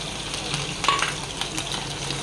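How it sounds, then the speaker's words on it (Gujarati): Cumin seeds, green chillies and garlic sizzle in hot oil as the base of a Kathiyawadi sev tomato curry, a steady close crackle with a few stirring clinks. "આપણું જીરું બરાબર સંતળાઈ જાય એટલે આપણે એની અંદર લીલા મરચાં નાખીશું, થોડું લસણ નાખીશું"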